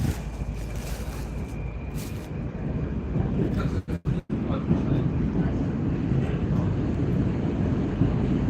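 Loud rumbling noise inside a Moscow subway, a heavy low roar with rushing air that drops out briefly twice midway, then resumes steady and strong.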